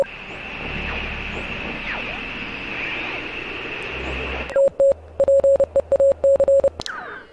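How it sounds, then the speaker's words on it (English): Steady static hiss from a handheld radio in the video game Oxenfree gives way to a run of sharp, evenly pitched electronic beeps in short and long bursts, Morse-code style, loud and alone with no talk. "So all we have for this one is the weird beeping."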